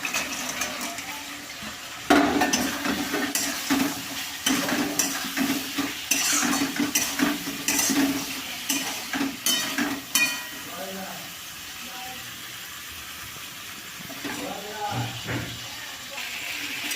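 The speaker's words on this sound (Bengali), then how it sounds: "এবার ক্রিস্পি চিকেনগুলো অ্যাড করছি।" Crispy chicken pieces tossed into a sugared sauce in a frying pan, sizzling under brisk rhythmic stirring and utensil scrapes for about ten seconds, then quieter simmering with occasional stirs.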